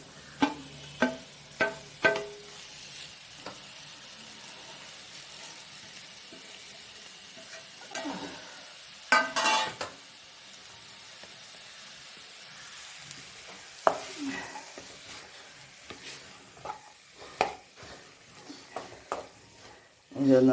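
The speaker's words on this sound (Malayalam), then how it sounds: "ഇതൊന്ന് നന്നായിട്ട് വഴറ്റിയെടുക്കണം." Chopped tomatoes sauté in a pan with a soft sizzle. A spoon scrapes and stirs in scattered clicks and sharp knocks.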